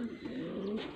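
A flying-breed pigeon coos softly in a low, steady murmur, close by, with no talk over it.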